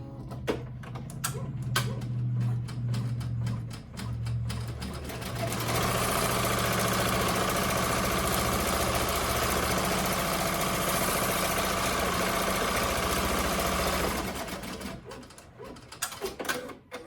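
Embroidery machine stitching a tack-down line on an in-the-hoop Valentine coaster: a fast, even mechanical hum with dense stitching rhythm that starts after a few clicks, runs steadily for several seconds, then stops with handling clatter.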